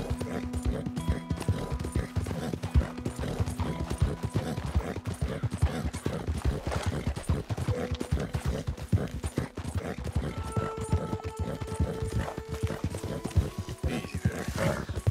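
A horse gallops in Red Dead Redemption 2 with continuous rapid hoofbeats, close and steady throughout.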